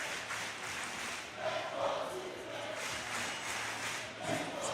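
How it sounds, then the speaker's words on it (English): A crowd cheers at a 3x3 basketball tournament in Amsterdam, a steady wash of distant voices and noise that swells a few times with louder shouts. "The crowd is engaged, trying to ignite Utrecht."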